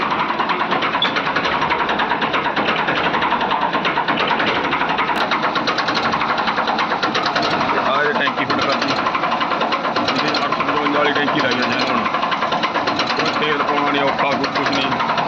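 A Farmtrac tractor with newly fitted power steering runs steadily nearby, its engine giving a dense, even mechanical clatter and knock that holds unchanged throughout, with no pauses or revving.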